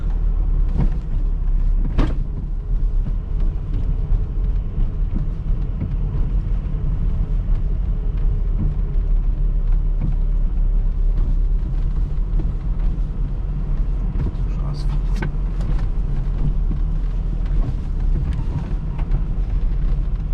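A lowered Toyota Starlet II's engine drones steadily while driving, a constant low rumble with road noise and a couple of brief sharp clicks, no talking.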